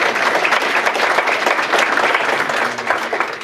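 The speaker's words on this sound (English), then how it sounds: "Give yourself a round of applause." A crowd of residents and staff at a retirement community gathering gives themselves a loud, dense round of applause, steady and sustained throughout with no speech.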